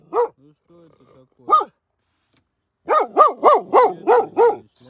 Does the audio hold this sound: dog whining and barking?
yes